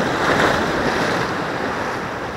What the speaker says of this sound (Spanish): ahora hay mar de fondo, pero ya no son olas tan grandes